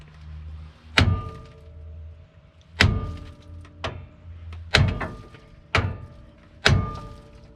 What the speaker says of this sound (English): the reason I'm hitting that is because that's what the drag link's attached to